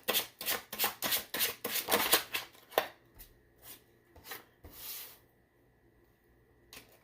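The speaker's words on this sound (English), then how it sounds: "Allow me to just shuffle the cards and get them for you." A rapid run of crisp riffling tarot card shuffles, close up, followed by a few slower slaps and taps as the deck settles, then quiet.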